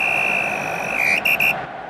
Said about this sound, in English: And the final whistle.